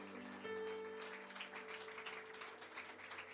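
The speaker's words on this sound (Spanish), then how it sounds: "Si le va a dar un fuerte aplauso al Señor, hágalo con gozo y con gratitud al Señor." Church congregation applauding during a Sunday morning service, a soft, diffuse wash of many hands clapping with a sustained tone from an instrument or hum in the background.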